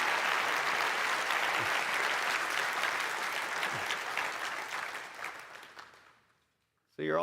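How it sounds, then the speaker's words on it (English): Audience applause for Michael Saylor at a Strategy World conference, loud, dense clapping and cheering that holds steady and then fades out to near silence before a voice returns at the end. "Why don't we just do one more round of applause for the Giga Chad himself"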